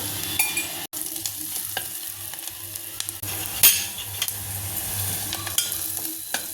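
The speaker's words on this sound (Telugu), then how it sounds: "ఉల్లిపాయ ముక్కలు బ్రౌనిష్ కలర్లో వచ్చేంత వరకు వేయించుకోవాలండి" Onion pieces with turmeric fry in a pan for a Telugu brinjal dish, making a continuous crackling sizzle broken by occasional sharp clicks and scrapes of a ladle; nobody talks.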